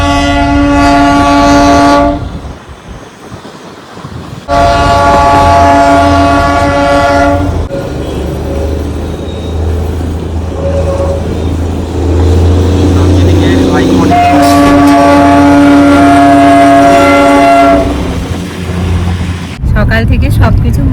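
Darjeeling toy train passing close by, sounding loud repeated horn blasts over a rumbling engine and traffic noise, with brief pauses between the blasts.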